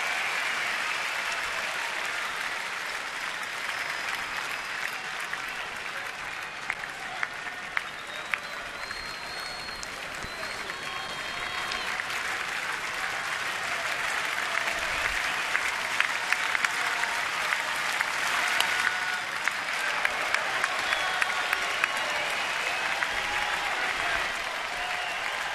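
Spectators at a Washington Nationals home baseball game against San Diego clap and cheer in a sustained wash of applause, swelling slightly toward the end, with scattered whistles and crowd murmur throughout.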